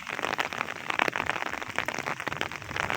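Heavy rain falls in a rural village, with a dense, steady patter and splash of drops striking nearby surfaces, close and moderately loud for the whole stretch, with no voices.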